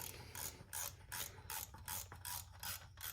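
A ratchet wrench tightens bolts on a Cummins X15 engine with about seven quick rhythmic clicking bursts in steady succession, close but fairly quiet.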